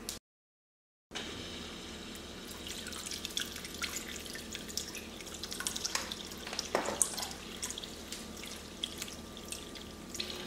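A pump-fed DIY water feature on a potting bench trickles at its lowest flow setting, giving soft, irregular drips and little splashes close by that grow slightly busier over about ten seconds after a brief silent gap.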